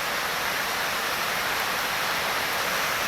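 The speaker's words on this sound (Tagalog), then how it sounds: "Malalakas na buhos ng ulan ang sumalubong sa umagang ito." Heavy morning rain pours down during bad weather, a loud, dense and unbroken hiss of downpour with no pauses.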